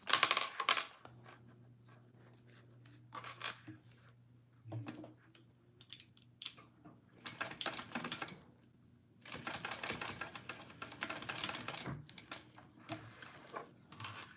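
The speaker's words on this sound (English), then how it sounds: "now I'm going to top stitch" A sewing machine top stitching a fabric clutch runs in several short, close bursts of rapid mechanical clatter, broken up by pauses and faint handling of the fabric.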